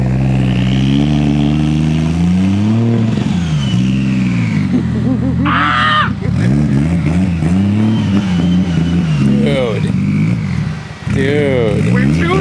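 A built 1JZ engine swapped into a Nissan 350Z revs up and down at first start-up, its strong harmonic drone rising and falling under near-constant talking.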